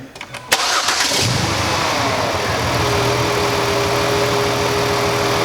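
A car engine cranks briefly and catches, then settles into a steady, loud idle while running with a misfire on coil six; no talk.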